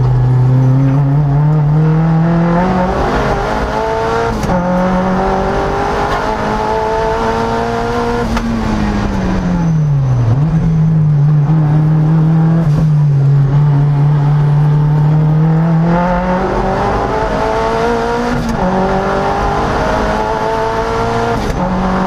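A 300HP Mazda Miata race car on a fast time-attack lap at Sandown, the engine loud and close throughout, revs climbing and dropping through gear changes and a deep dip for a braking zone.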